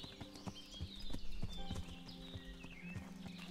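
A ridden horse's hooves clop along in Kingdom Come: Deliverance, a regular sequence of close, moderately loud footfalls over a faint ambient background.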